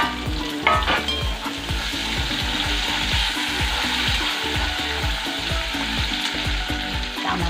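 Tomatoes fry in a hot pan with ginger paste, making a loud, continuous sizzle with rhythmic stirring scrapes repeating close by, with no talking.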